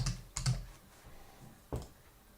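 Computer keyboard typing in a few short bursts of key clicks, with quiet pauses between them, as login credentials are entered.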